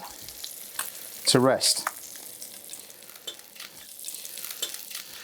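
Fish frying in a pan on its second side, a soft, steady sizzle heard close, with a short spoken phrase briefly over it.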